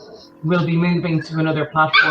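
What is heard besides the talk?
dog barking in the background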